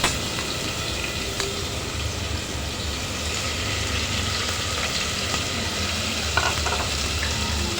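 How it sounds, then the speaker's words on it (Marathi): Steady, loud sizzling of green chillies frying in hot oil, a constant crackling hiss with occasional sharp pops. "चांगले तेलावर परतून घ्यायचं मिरची व्यवस्थित सांभाळून करायचं नुसती उडते तेलावर"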